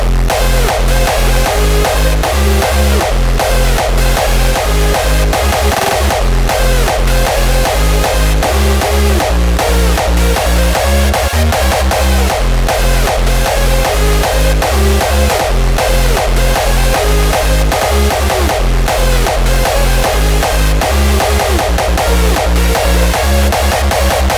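Loud electronic dance music pounds with a heavy kick drum on a steady four-on-the-floor beat, dense synths layered over it throughout.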